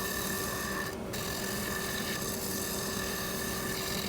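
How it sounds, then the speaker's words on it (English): Carbide tool taking a light cleaning pass over turned canary wood to remove CA glue, a continuous raspy scraping against a steady lathe hum, close and constant with no talk. "I'm going to take a light pass with the carbide tool just to take that off and clean the wood up a little bit"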